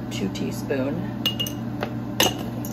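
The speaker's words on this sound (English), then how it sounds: "just going to go ahead and give that a mix until it's all mixed up" Spoon stirring stevia into a food mixture in a kitchen bowl, producing scattered clinks and scraping taps against the dish over a steady low background hum.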